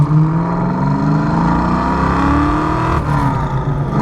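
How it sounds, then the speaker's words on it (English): A 1990 Ford Mustang GT with a Procharged 5.0 engine and five-speed manual gearbox pulls under throttle, a loud, steady, close engine drone and supercharger whine rising in pitch, briefly dipping near the end. "I'll try to get in the throttle just a little bit without roasting the tires again."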